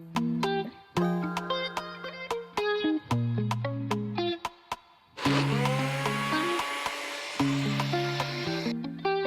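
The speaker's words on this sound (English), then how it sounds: "And then we're going to take it all and blend it up." A kitchen blender whirs through vegan cheese milk in loud, close start-and-stop bursts, its motor pitch stepping up and down between pulses, then a rougher, fuller roar as the blend thickens; no voices.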